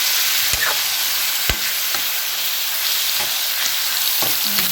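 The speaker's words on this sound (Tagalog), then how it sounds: "So, ihulog na natin yung kamatis." Tomatoes tumble into a hot frying pan of chicken asado, setting off a steady loud sizzle with a few sharp splashes and clatters as they land and are stirred.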